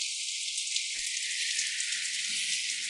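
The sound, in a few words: heavy rain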